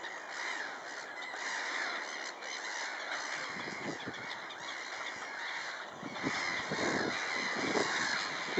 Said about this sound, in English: I'm sure you can hear the gulls.